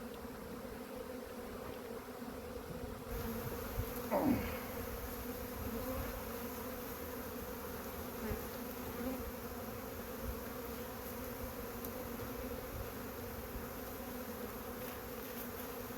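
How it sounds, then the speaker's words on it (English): A constant dense hum of many honeybees buzzing close by at a hive, steady throughout with faint occasional rustles and no voices. "Bees."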